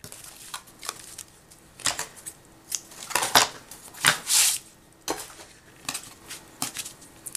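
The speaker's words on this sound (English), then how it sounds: "So cut your ribbon and thread it through that little hole that you just cut." Scissors snip through craft ribbon in a series of sharp, close metallic clicks and cuts, irregularly spaced with brief pauses between them, and a few soft rustles of handling.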